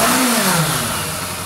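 A 30-year-old Yamaha motorcycle engine, left sitting for 20 years, revs briefly and then its pitch drops back toward idle, close and loud.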